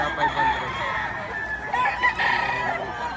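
Chickens and roosters crow and cluck at a poultry market in Padre Garcia, Batangas, a dense, continuous fowl chorus at moderate distance with no clear talk.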